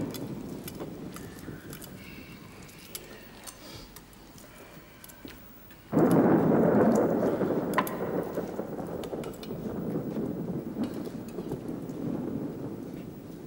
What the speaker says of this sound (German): Da kommt der Gewitter.